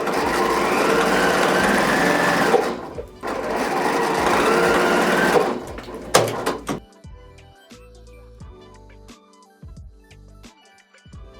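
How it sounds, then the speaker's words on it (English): A sewing machine stitches quarter-inch seams joining background fabric strips for a layer-cake house quilt, running in two steady whirring stretches before giving way to quiet clicks and handling of the fabric. "sew your 1/4 inch seams."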